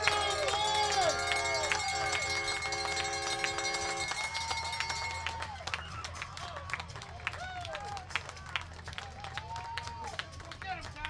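Crowd at a Thursday night high school football game, cheering and clapping amid a steady babble of voices, with whistles and a public address voice carrying over the din.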